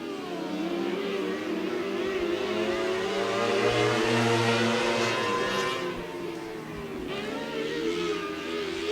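Micro sprint race cars at Stuart Raceway roar down the straightaway, engines loud and close with pitch rising and falling through shifts and corners, a dense continuous racing drone with faint announcer talk underneath.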